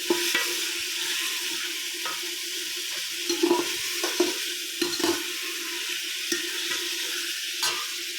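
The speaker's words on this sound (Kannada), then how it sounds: "ಟೊಮೊಟೊನ ಹಚ್ಚಿಟ್ಕೊಂಡಿದ್ನಲ್ಲ ಅದನ್ನು ಇವಾಗ ಹಾಕ್ಕೊಳ್ತಾ ಇದ್ದೀನಿ." Chopped tomatoes fry and sizzle in a pan for tomato pulao, with a steady hiss and a series of scraping stirs of the spoon at irregular intervals.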